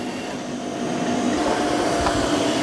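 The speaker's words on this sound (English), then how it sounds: "here's the Eufy with its vacuum running, and it's spinning the mop pads" A Eufy X10 Pro Omni robot vacuum runs with a steady, loud broadband whoosh and motor hum while its mop pads spin, rising slightly in level partway through, with no voices.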